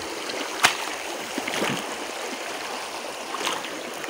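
River water running over stones at La Poza del Diablo in Itzamatitlan, Morelos, a steady broadband rush with small splashes and one sharp knock, heard close and continuous.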